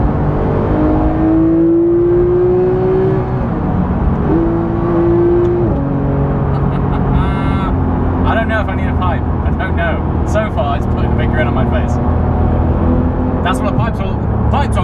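Porsche 991 GT3 accelerating hard, engine note climbing through rising revs heard from inside the car, with a gear change midway and someone talking over the loud cabin drone.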